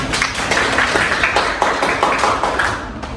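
An audience applauds for Kalita during a classroom session, a short burst of many hands clapping in quick, uneven rhythm, fairly loud and close, with no talk over it.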